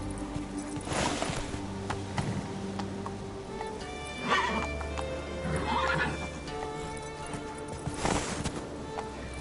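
Geralt's horse Roach in The Witcher 3 video game, hooves clip-clopping at a steady gallop with bursts of neighing and snorting, close and loud.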